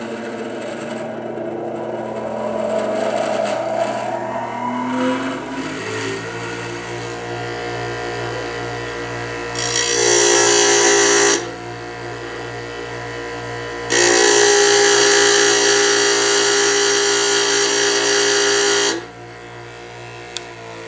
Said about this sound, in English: Even though I'm bogging it down while I'm grinding, the motor is strong enough to keep up with the grinding